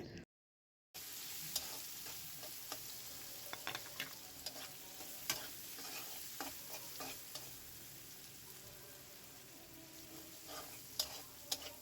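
Onion, garlic and dried chilli fry in a pan with a continuous close sizzle, broken by frequent clicks and scrapes of stirring, after a brief silent moment at the start.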